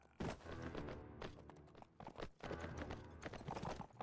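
A group of horses galloping in the Mount and Blade Warband video game, a busy rush of clopping hoofbeats that rises and falls, close and fairly loud, with no one talking.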